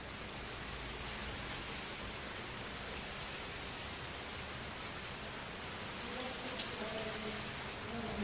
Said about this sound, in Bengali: বিকালবেলা বৃষ্টি নেমে গেল